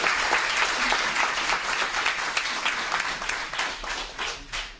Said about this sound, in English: Let's hear it for Tricia